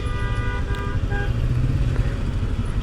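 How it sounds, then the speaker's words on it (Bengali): Road traffic noise: engines idle and rumble close by while scattered horns toot, a busy, congested street with no voices. "এত যানজট কেন"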